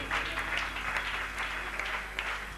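A church congregation applauds and cheers, with a steady wash of dense clapping and raised voices that holds evenly throughout without a clear break.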